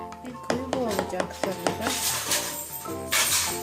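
Homemade slime is stirred with water in a bowl, giving repeated clinks and scrapes of the utensil against the bowl in an uneven rhythm, close and fairly loud, with some wet swishing toward the end.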